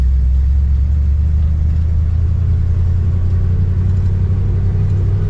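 A 1982 Dodge Ramcharger W150 drives in second gear, its engine a loud, deep, steady drone close up inside the cab. A slight change in pitch toward the end may be a gear shift.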